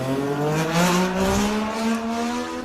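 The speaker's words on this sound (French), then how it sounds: "La course Moto 2 sur ce circuit de Misano." Moto2 motorcycles racing at the Misano circuit, engines whining and rising in pitch as they accelerate past, loud and continuous with no talk.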